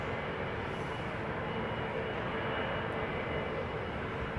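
Airliner taxiing at London Heathrow Airport, heard as a steady, broad jet engine roar that stays loud and even throughout with no talk over it.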